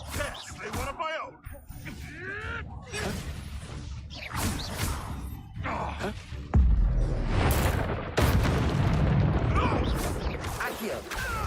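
The Confringo explosive spell fires in the video game Hogwarts Legacy, giving crashing whooshes and blasts. They come amid busy combat effects and sit under talk.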